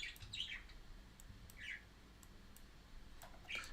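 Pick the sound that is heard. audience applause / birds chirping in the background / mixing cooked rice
birds chirping in the background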